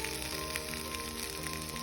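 Scarlet gourd (kovakkai) frying in a pan, giving a continuous, even sizzle with soft crackling throughout and no voices.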